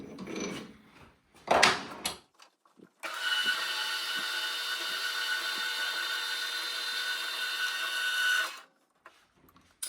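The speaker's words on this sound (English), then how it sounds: "Now I'm going to saw this off in the saw instead of using the parting tool." A metal part for a Y-axis stop on a PM 728V milling machine is cut off with a power saw, a steady grinding rasp lasting about five seconds after a few brief knocks and handling clatter.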